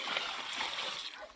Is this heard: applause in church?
no